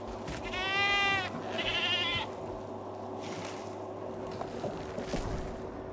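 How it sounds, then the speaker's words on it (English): A goat bleats loudly twice in Jurassic World Evolution 2 as small carnivorous dinosaurs hunt it in a park pen, over a low steady game ambience. "That's them hunting the goat."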